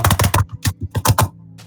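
Fast, forceful keystrokes on a computer keyboard rattle out in quick clusters of sharp clicks, close and loud, with a short pause midway before another burst.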